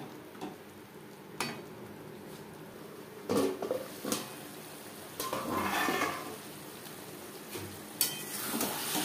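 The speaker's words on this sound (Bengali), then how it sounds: "ছোলার সাথে মশলা আরও 4-5 মিনিট রান্না করব।" Chickpeas cook with spices in a pan over a medium gas flame for niramish chana masala, with soft sizzling, scattered clanks of a spoon against the pan, and bursts of stirring.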